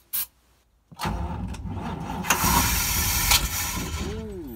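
Engine of a vintage RV cranking over as someone tries to start it, a loud rough churning that builds and keeps grinding without catching, with a short noise and a pause beforehand.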